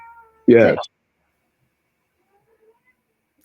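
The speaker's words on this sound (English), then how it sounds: "That was our cat." A single short, loud household cat meow at a door, close by in an otherwise quiet room, followed by silence; a voice briefly murmurs at the start.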